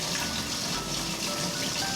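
Water poured over a baby's head during a bath, a continuous broadband splashing and trickling rush that stays steady and close for the whole stretch, with no voices.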